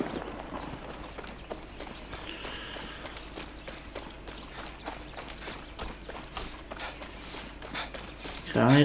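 Horse hooves clip-clop at a steady walking pace in the Far Cry 6 video game, moderately close amid game ambience, with a burst of louder noise at the very end.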